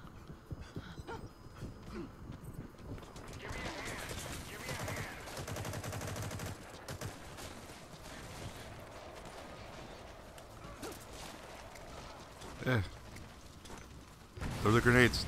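Gunfire in the Metal Gear Online 3 video game, with rapid crackling bursts and sharper reports rising louder near the end over a busy battle background.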